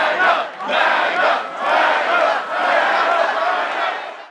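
A crowd of hundreds at a CSUN campus political rally chants in unison, a loud, steady, rhythmic chant of repeated syllables that rises and falls in even pulses, close and filling the space.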